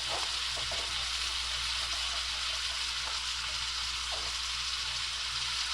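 Onions fry in a pan with a dense, steady sizzle that holds at an even loudness throughout, with faint stirring scrapes underneath and no talk.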